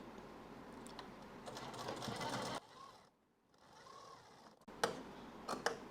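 A sewing machine stitches piping onto a blouse, its clicking, ticking run heard in two close bursts separated by a quieter pause.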